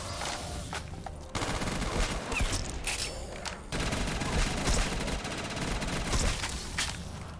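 Rapid automatic fire from an AUG rifle in a Call of Duty zombies match, loud sustained bursts with a brief pause near the one-second mark and another dip before the four-second mark.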